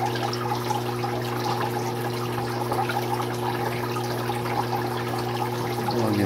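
Water pours steadily from a net bucket into a betta fish tank, a continuous splashing rush over a constant low hum, loud and unbroken throughout.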